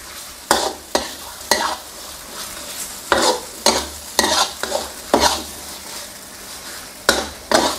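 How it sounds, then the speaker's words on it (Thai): Stir-frying chicken breast in curry paste in a pan, with repeated sizzling bursts and scraping as the food is tossed at an irregular pace, close up. "แล้วก็ผัดคลุกเคล้าให้เข้ากัน"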